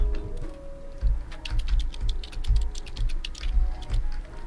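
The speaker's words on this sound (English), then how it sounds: "Just typing on the keyboard now." Rapid, light keystrokes on a computer keyboard in the game Stray, an irregular clicking patter at close range with no one talking.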